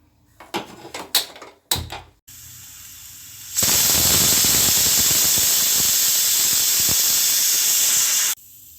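A pressure cooker cooking a carrot dish gives a few sharp clanks and puffs, then bursts into a loud, continuous whistling hiss of escaping steam for about five seconds before cutting off abruptly.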